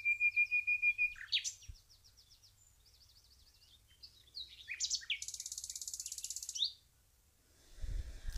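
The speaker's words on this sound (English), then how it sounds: "The nightingales, like other birds, are singing to attract their partner." Nightingales sing in short bursts of varied chirps, trills and whistles, including a fast rapid-fire rattling phrase, clear and fairly close against a quiet background, with a low rumble at the end.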